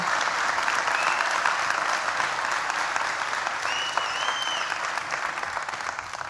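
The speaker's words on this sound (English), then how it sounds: "Give them another round of applause." A crowd gives a choir a round of applause, a steady, sustained wash of many hands clapping that holds evenly throughout, heard from a moderate distance with a faint high whistle-like tone briefly rising above it.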